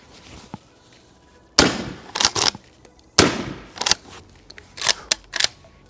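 A traumatic pistol fires several shots into a slab of lard, sharp cracks coming in uneven bursts, some in quick pairs, with quiet gaps between them.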